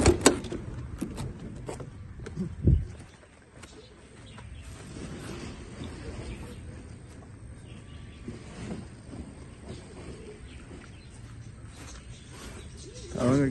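Pigeons coo in soft, low repeated phrases near a loft, with a sharper clatter early on and some background murmur and movement throughout.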